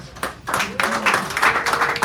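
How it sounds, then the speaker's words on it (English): An audience at a San Francisco café poetry hour applauds for a poet, the clapping rising to a steady, moderately loud round with voices talking and murmuring over it. "Give her a beautiful round of applause"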